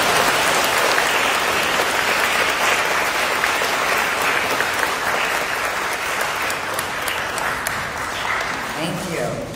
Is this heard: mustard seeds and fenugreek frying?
no